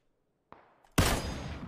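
Gunfire in the battle royale video game PUBG: after a couple of faint pops, a loud burst of shots erupts and sustains to the end, close and harsh.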